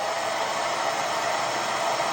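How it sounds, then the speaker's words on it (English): Blow dryer running on hot while heating a jar seal, a steady close whooshing airflow with no change in pitch or level and no voices. "I'm just gonna use my blow dryer"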